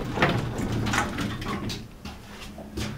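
Dover-made doors on a Downey-Goodlein hydraulic elevator slide along their track with a soft, continuous rumble and light knocks and clunks, fairly close, with no talking.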